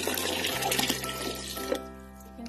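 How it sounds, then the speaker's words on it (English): Water pours into a large soup pot, a brief splashing gush over a low steady hum that eases off and settles into a quieter trickle. "So I need to add 12 cups of water to it."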